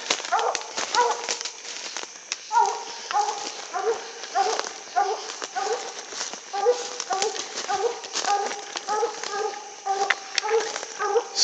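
A hound baying steadily at a tree, its repeated deep, drawn-out bawls coming in a rhythmic series, close and loud outdoors, with no pauses in the bawling.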